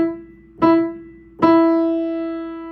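Piano playing a simple rhythm on one repeated pitch: a struck note, then a second strike that rings on as a long, slowly fading tone, clear and close in a quiet room.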